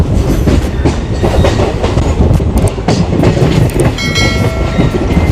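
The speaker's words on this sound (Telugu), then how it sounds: "ప్రజెంట్ కాళహస్తికి అయితే మన ట్రైన్ అయితే రీచ్ అయిపోయింది" A passenger train runs loud and close, pulling into Srikalahasti station, with heavy rumbling, rhythmic clickety-clack of wheels over rail joints and a brief horn-like tone near the end.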